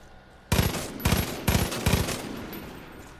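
Four loud, close bursts of rapid automatic gunfire with piercing ammo in the video game Far Cry 5, each about a quarter second, evenly spaced and followed by short fading tails.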